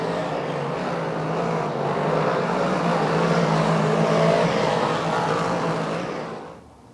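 Dirt-track race cars roar around the oval at Lernerville Speedway, a dense, continuous engine drone from several cars at once, swelling slightly and then fading away at the end.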